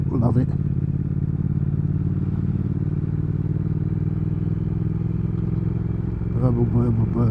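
A 2019 Triumph Speed Twin's engine burbles steadily and loudly at close range throughout, with a voice briefly heard at the start and again near the end.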